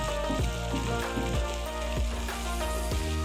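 Okra (bhindi) with onions fries in oil, making a steady, close sizzle broken by a few soft stirring scrapes, with no voices.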